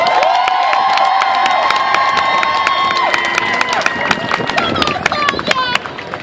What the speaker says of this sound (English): Please make a round of applause for Miss Sonia Lewis.